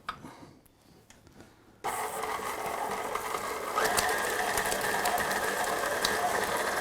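An electric mixer starts up and whirs steadily through pumpkin cake batter, a close, even mechanical drone that grows slightly louder partway through after a brief quiet lead-in.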